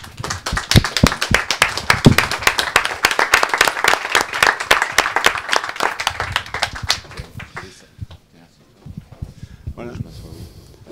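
Audience applause for a film's lead actor at a screening Q&A: sharp, distinct hand claps packed closely together for about seven seconds, then dying away into quieter room sounds and some talking.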